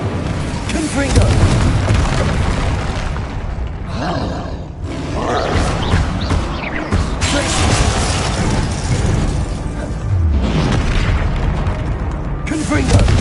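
Confringo explosive spells blasting in the video game Hogwarts Legacy, a dense run of loud booming blasts and rumbling roars, with a voice shouting spell names over the din.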